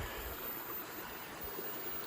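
Steady rushing flow of a backyard swim pond's waterfall, the water spilling over rocks into a wetland-filtered pond behind a house, a continuous even wash of noise with no talk.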